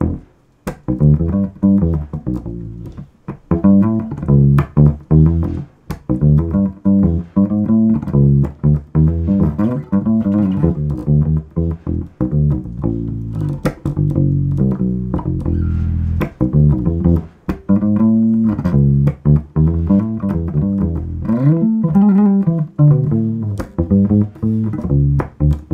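A Fender Mustang bass fitted with old strings gives a dull, warm vintage tone, playing a continuous busy line of plucked low notes for about twenty-five seconds, loud and close with no voices.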